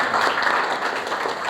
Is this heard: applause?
yes